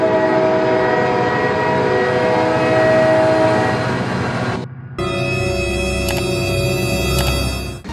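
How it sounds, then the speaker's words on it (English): A train passes in the BeamNG.Drive video game, a loud continuous rumble with a sustained horn, then a sudden shift to rattling clatter and sharp clicks close by. "Oh my god, train!"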